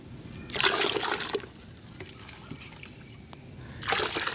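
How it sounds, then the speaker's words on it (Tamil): Water poured into biochar and mixed for soil preparation, two bursts of rushing, sloshing pour with quieter trickles and drips between them, close and fairly loud. "இப்போது இது கூடவே நிறைய தண்ணியும் கலந்துக்கிறோம்."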